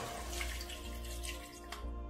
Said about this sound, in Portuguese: Vamos colocar a água até cobrir a carne.